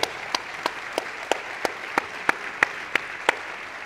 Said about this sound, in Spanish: Les damos un fuerte aplauso a todos ellos.